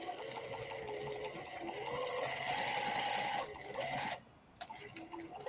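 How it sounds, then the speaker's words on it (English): A sewing machine stitches quilt border strips together, a steady close whirring hum that runs continuously, then stops abruptly near the end, leaving quieter handling noise. "I'm just sewing all these strips together for the border"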